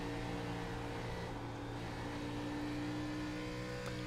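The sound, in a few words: race car engine lifting off throttle in iRacing video game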